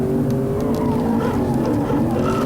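In BeamNG.drive, a modded CJD vehicle with an upgraded automatic powertrain cruises with a steady droning engine note that rises slightly in pitch, continuous and close, with no talking.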